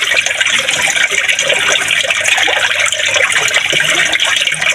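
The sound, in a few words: water scooped with a can and poured into a gallon container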